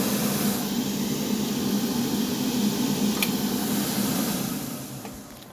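A cooling fan whirs beside an LDMOS amplifier setup, a steady close hiss with a low hum that fades slightly toward the end.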